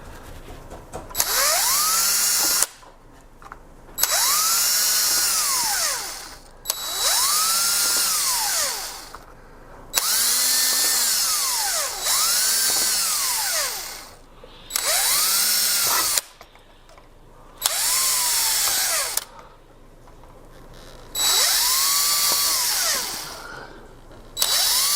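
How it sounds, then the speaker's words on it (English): A power drill whines in repeated bursts, drilling the corners of a TFT display bezel, about nine runs spinning up and down with short pauses between, close and loud. "I think what I'm going to do is drill the corners first."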